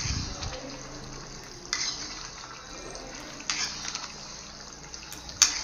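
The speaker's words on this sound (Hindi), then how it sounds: "यहाँ पर देख सकते हैं मसाला हमारा टमाटर का भुन रहा है" Tomato masala frying in a pan, a steady low sizzle with a few sharper stirring scrapes as it is mixed, close up and moderately loud, no one speaking.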